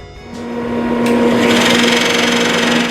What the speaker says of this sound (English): When done, I head to the table saw.